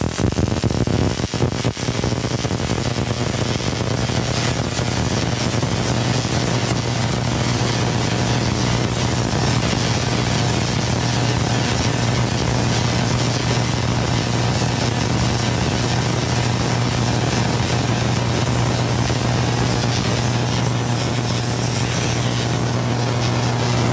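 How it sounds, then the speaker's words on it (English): The vacuum unit for a Tesla coil spark gap running, a loud, steady roaring hum and airflow rush with a low tonal drone, constant for the whole stretch and no voices. "The vacuum unit's running."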